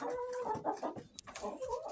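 Chickens clucking close by in a busy, overlapping series of calls, with a sharp higher squawk partway through.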